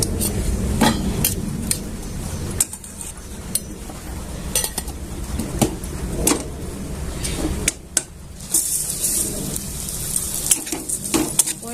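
Poha, flattened rice, is roasted in ghee in a pan, with repeated close metallic scrapes and clinks of a spoon stirring against the pan over a low background sizzle, irregular throughout.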